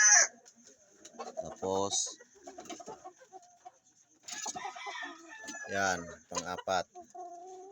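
Fighting cock roosters cluck and crow in short, sharp bursts scattered across the recording, close by, with someone talking between and over the calls.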